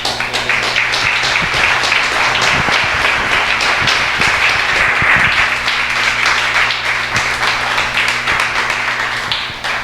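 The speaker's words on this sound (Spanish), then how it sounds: "Dele un fuerte aplauso." A church congregation claps loudly and steadily, a dense roar of many hands from nearby, with a sustained musical tone running underneath throughout.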